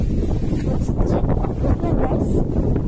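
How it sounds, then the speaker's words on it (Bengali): Strong gusts of wind sweep across an open navy camp, buffeting the microphone with loud, rumbling surges that rise and fall in waves. "প্রচন্ড বাতাস, আমার চোখগুলো উঠে যাচ্ছে।"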